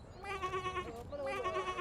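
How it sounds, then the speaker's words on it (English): A sheep bleats in two drawn-out, quavering calls near a farm gate, loud and close, with faint background noise and no talk over it. "Oh, look at that sheep."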